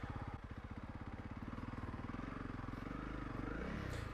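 A Honda CRF 300 Rally motorcycle struggles through deep sand in a South African nature reserve, its engine thumping steadily in a low, labored drone with clattering underneath, close and continuous, no talk.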